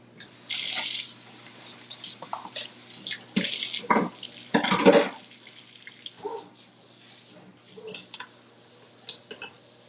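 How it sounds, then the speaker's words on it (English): Kitchen tap water runs over raspberries in a sink, several bursts of splashing and rinsing that rise and fall, with quiet pauses, drips and small handling knocks in between. "I'm going to rinse off my raspberries."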